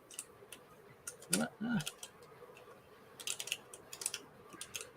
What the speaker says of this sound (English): Hitting the keyboard keys is throwing me off just a little bit.